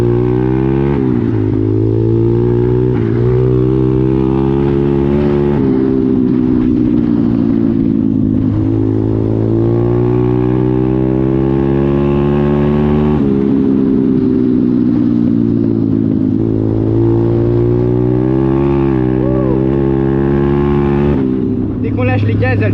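A small 125cc RS Factory motorcycle engine revs and shifts through gears in a forest, pitch rising and dropping repeatedly, loud and close with wind noise over it.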